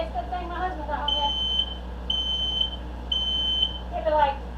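Kitchen smoke alarm beeping while tomatillo salsa verde cooks, three evenly spaced shrill beeps with a person talking faintly before and after.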